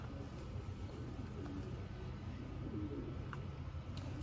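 Low, soft cooing from racing pigeons at a loft repeats under a steady background hum, with a few faint higher chirps scattered through.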